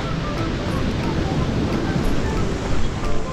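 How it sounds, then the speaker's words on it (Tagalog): Big ocean waves surge and crash on a rough, rainy day along the coast at Wuyanjiao in Yilan, Taiwan. A loud, continuous roar of surf is mixed with heavy wind buffeting the microphone. "Grabe naman na alon yan!"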